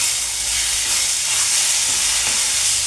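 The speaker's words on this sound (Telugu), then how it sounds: "ఈ కారం కూడా అంతా మంచి పచ్చివాసన పోయేలాగా వేయించుకోవాలి" Chili powder and coriander powder frying in hot oil in a pan, giving a dense, steady sizzle and hiss that holds loud and close throughout, with faint stirring scrapes and no voices.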